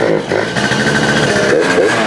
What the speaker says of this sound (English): it revs again